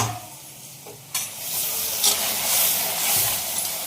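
Chicken curry with gongura and tomatoes cooks in a pot, giving a steady close sizzle and hiss with occasional stirring scrapes and bubbling, and no one speaking.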